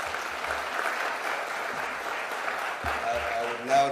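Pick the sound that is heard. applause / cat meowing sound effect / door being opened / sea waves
applause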